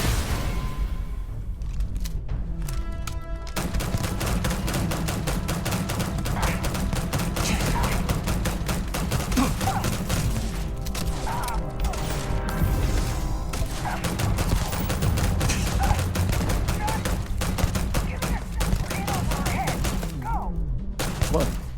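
Dense, continuous gunfire from the video game Starfield, rapid bursts of shots rattling almost nonstop at loud volume, with a voice speaking briefly partway through.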